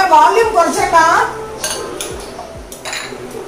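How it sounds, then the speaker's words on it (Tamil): Dishes and cutlery clink and clatter in a sink, with short metallic knocks and running-water hiss, fairly close. "பாத்திரம் உடனே உடனே கழுவிட்டேன்"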